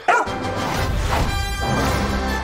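An animated superhero dog barks in an action movie trailer: one sharp, loud bark right at the start, followed by a dense bed of music and effects.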